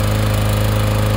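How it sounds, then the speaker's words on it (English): A lawn mower engine runs loud and steady over a yellowjacket nest outdoors, a continuous close drone with a strong low hum and no breaks or speech. "He's had the lawnmower on for about 8 to 10 minutes."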